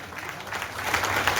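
Applause from the crowd at a HUDA workers' union felicitation gathering, as a colleague is honoured with a garland of currency notes; steady, dense clapping that swells slightly toward the end, heard alone without talk.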